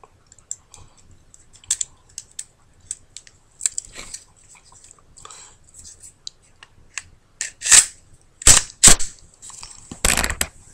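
A Beretta Nano pistol is put back together with its barrel and slide, giving sparse metallic clicks and small snaps that turn into several sharper, louder clacks near the end, close up with no one talking.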